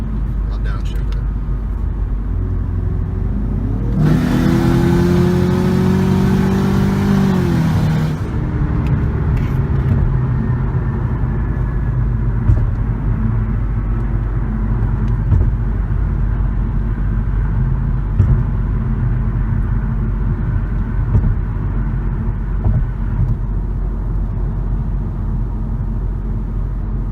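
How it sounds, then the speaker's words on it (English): A Ford Mustang EcoBoost with an external wastegate is floored to about 15 psi of boost. A loud, rushing wastegate dump bursts over the rising engine note for a few seconds, then a steady, rumbling cruise carries on, close-miked. "The wastegate, I'm just going to floor it, and when it makes about 15 pounds of boost, it'll open so you can hear it."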